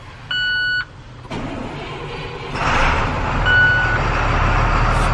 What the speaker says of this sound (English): Let's try Mr. Green Truck, see if he'll start.